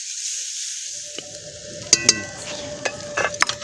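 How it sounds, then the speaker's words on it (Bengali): Chopped onions fry in oil for crisp birista, a steady high sizzle broken by a few sharp clinks and scrapes of a spatula against the pan. "পেঁয়াজটা আমরা ভালো করে ভেজে নেব"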